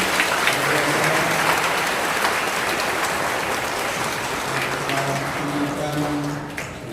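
Sustained, dense applause from a congregation at an Easter Saturday night Mass at Stella Maris, thanking the organizing committee, filling the whole stretch at steady loudness with a faint voice beneath it.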